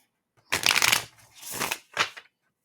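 An oracle card deck being shuffled by hand in three quick bursts, the first longest, close and crisp with no talking.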